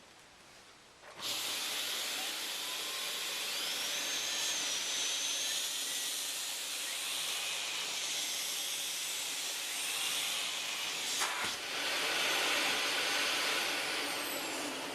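A Dyson DC39 Animal vacuum cleaner with its brush bar on runs over carpet, starting up abruptly into a loud, steady whooshing roar that continues to the end, with a brief bump partway through.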